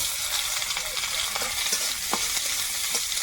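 Chopped onion frying in oil in a wok makes a continuous close sizzle, with light stirring taps and scrapes scattered through it.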